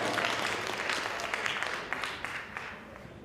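A short burst of applause from a crowd at a university debate, dense clapping that holds steady then begins to thin out.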